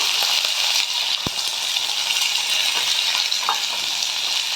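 Bottle gourd and beans go into a pan of lentil dal, setting off a steady, loud hissing sizzle with a brief clatter of vegetables and utensil, no voices.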